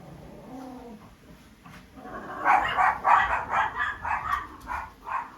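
Several dogs bark in a quick, uneven run, fairly close and loud, after a quieter stretch of background noise.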